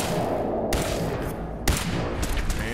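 Gunfire in the video game Fallout 4: a couple of sharp shots stand out against a dense, steady game soundscape, with the bursts brief and loud.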